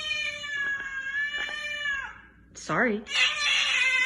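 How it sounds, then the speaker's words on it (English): A house cat meows repeatedly, the first cries long and drawn out, then it breaks into a sharper, wavering caterwaul near the end, close and clear, with a person speaking briefly among the cries. "Our cat does not like the fact that we're all home quarantined."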